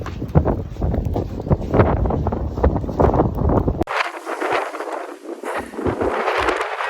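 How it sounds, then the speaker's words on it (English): Strong storm wind on a Peak District farm buffets the microphone with a loud, roaring rush that shifts abruptly to a thinner, hissing gust partway through, with no talking. "you can tell how windy it is"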